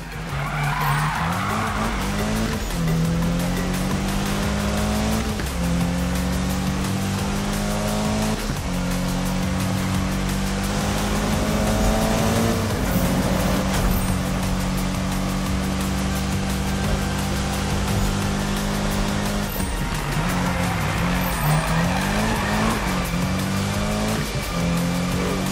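Race cars in a Need for Speed video game, with engines roaring and shifting pitch, tires skidding and squealing almost continuously, loud and sustained throughout.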